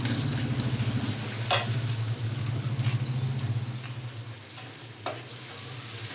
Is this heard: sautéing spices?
yes